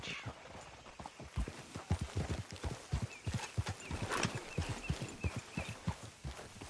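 Horse hooves trot in a quick, even clip-clop rhythm in Red Dead Redemption 2, close and clear, continuing steadily throughout with faint background ambience.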